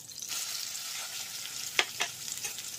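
Shrimp paste and black cumin frying in hot oil, a continuous soft sizzle with a couple of sharp scraping stirs near the middle, no voices.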